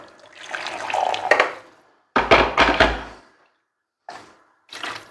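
Hot water splashes into a coffee pot as it is rinsed, in a few separate bursts of sloshing and pouring with quiet gaps between them.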